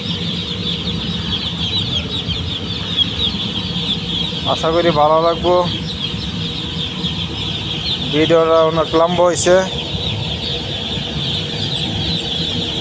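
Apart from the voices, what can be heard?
chickens clucking on a poultry farm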